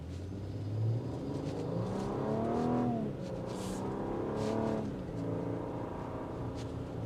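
A 2025 Infiniti QX80 luxury SUV in sport mode pulls away from a traffic light, its engine note rising and sweeping up through the gears. The acceleration stays loud and steady, heard from inside the cabin with no talking.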